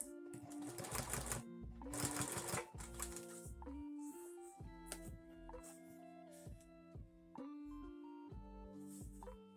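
A sewing machine stitches along the edge of bias tape, using an elastic band wrapped around its arm as a guide; its steady mechanical chatter runs in short bursts with brief pauses, close and clear, with no talking.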